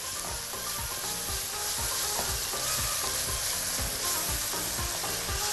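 Onions frying with spices and a stock cube are stirred in a pan, producing a constant close sizzle with soft scraping strokes repeating underneath for several seconds.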